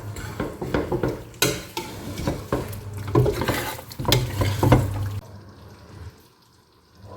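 A spoon stirs salt into chicken curry in a pot, giving repeated scraping and clinking strokes over a soft sizzle before falling quiet.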